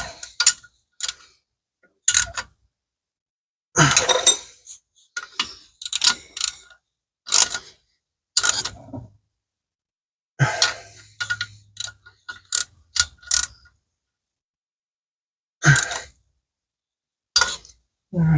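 A regular hand ratchet works bolts on a 2002 Chevy Blazer, giving short, separate bursts of clicking with quiet gaps between them, close and moderately loud.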